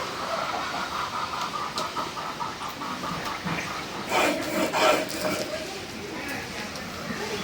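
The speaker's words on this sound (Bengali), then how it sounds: "মরিচ বাটা হয়ে যাচ্ছে" Red chili paste ground on a grinding stone: steady, gritty rubbing and scraping strokes close by. They swell louder midway, with voices faintly in the background.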